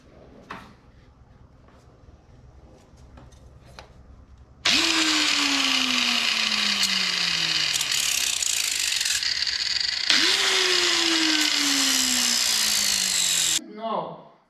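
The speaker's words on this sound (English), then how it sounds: "Tile Cutter. It doesn't cut that well" A manual tile cutter working on bathroom tile makes two loud, harsh grinding passes of several seconds each, separated by a brief pause, after quiet handling noises and a voice.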